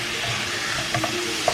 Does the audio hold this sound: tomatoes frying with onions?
yes